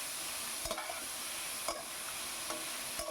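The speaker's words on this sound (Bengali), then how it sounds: "দেখুন খুব সুন্দর করে নাড়িয়ে চাড়িয়ে নিচ্ছি" Thinly sliced onions fry in butter in a pot, giving a steady close sizzle broken by a few sharp clacks of a spoon stirring at regular intervals.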